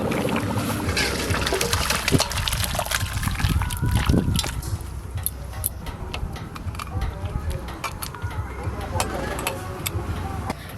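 Mutton curry with new potatoes poured and sloshing out of a cooking pot, a wet trickling and dribbling with small clinks, steady for several seconds under nearby conversation.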